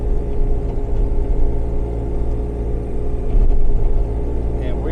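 A 2014 Bobcat Toolcat engine idles at about 1,600 RPM, giving a steady low, loud rumble with a faint whir that swells slightly near the end.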